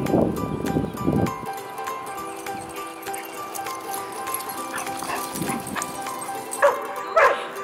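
Dogs bark in short bursts at the start and again near the end at a dog park, with clattering, hoof-like knocks and a steady hum between them.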